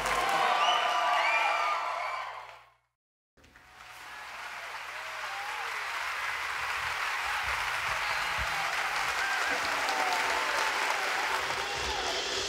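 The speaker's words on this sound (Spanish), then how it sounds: "Dele un aplauso." A crowd at a live Christian worship concert applauds loudly, breaks off in a brief gap, then resumes clapping with scattered cheers and whoops that continue steadily.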